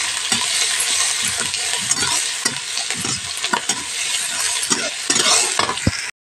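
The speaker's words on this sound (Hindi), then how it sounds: "प्याज को हम फ्राई कर लेते हैं लाल होने तक" Onions frying in a pan until browned for a bitter gourd curry: a steady close sizzle with repeated spoon scrapes and stirring clinks, loud throughout and ending abruptly, with no talk.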